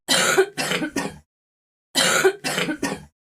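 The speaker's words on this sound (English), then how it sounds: "Don't keep coughing so, Kitty, for heaven's sake." Someone coughs close up in two fits of three harsh coughs each, with a short silent pause between the bursts.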